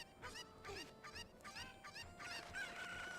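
Chickens in The Legend of Zelda: Ocarina of Time cluck and squawk in a busy run of overlapping calls, fairly close, with some crowing-like cries and steady game background sound, no talking.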